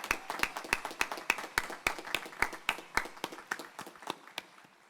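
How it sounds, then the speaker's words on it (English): Enthusiastic applause from the audience at an Elizabethtown College commencement ceremony, a dense run of sharp, rapid claps that fills the hall and gradually thins out toward the end. "let us have another round of applause"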